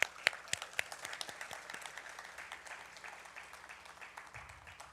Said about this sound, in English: let's clap loud enough for him to hear and everybody else